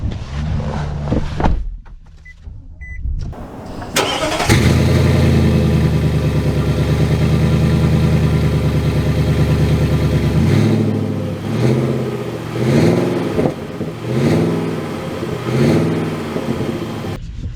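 A 2023 Nissan Titan Pro 4X pickup truck engine starts and revs loudly, then settles into a steady driving drone with rhythmic rising surges of acceleration, heard from inside the cab without talk.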